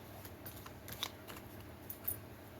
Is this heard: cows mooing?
no